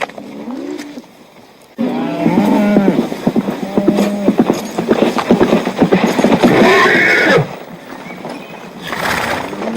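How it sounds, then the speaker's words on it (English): A horse comes back at a creek in a Western film scene, with clip-clopping hooves and neighing heard under an ongoing soundtrack, the hoofbeats growing louder in the middle and then dropping away. "Just his horse is back."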